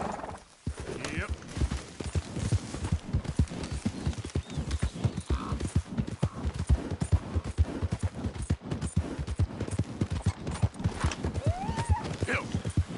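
Hooves of a horse galloping in Red Dead Redemption 2, a fast, rhythmic clip-clop close and loud throughout, with brief voice and game sounds mixed in.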